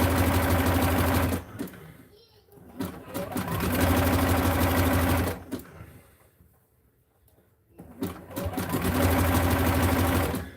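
A sewing machine stitches a wrestling singlet with black thread, running in three loud, sustained bursts separated by short pauses, close by.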